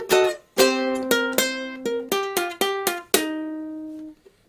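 A blues guitar riff in a swamp stomp style, picked with several fingers: a string of clear single plucked notes up the fretboard, about nine notes with short pauses, ending on a sustained ringing note, close and alone.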